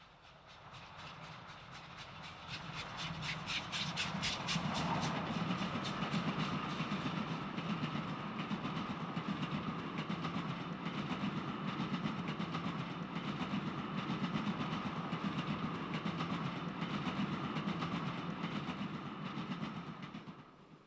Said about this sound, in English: for those too young to ever witness a Coronation Scot at work, let me assure you, these are the actual sounds